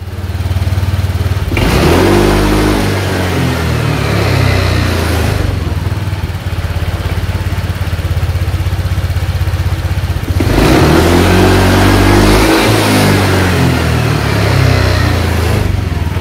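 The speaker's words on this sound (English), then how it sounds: "Start the engine to check the AF again on the Motoscan tab." A motorcycle engine idles and revs up twice, rising and falling in pitch, loud and close, with a rattling idle between the revs.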